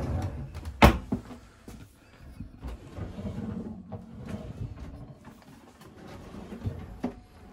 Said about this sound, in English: they are soft closing drawers as well